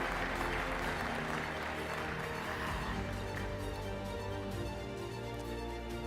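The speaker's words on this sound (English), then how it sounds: "I think another round of applause, one like you mean it." A large plenary audience at a conference applauds in a dense, sustained round of clapping that stays loud throughout, with a faint crowd murmur under it.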